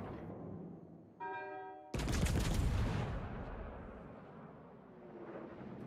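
A warship's cannon fires once in a naval combat game, a sudden loud, broad boom that rolls into a long rumbling decay after a brief tonal chime.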